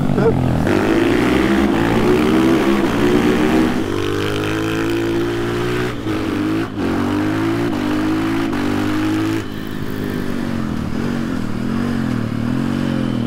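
KTM supermoto motorcycle riding on a winding road, its engine droning loud and close with rising and falling revs through gear changes and a brief dip in throttle midway.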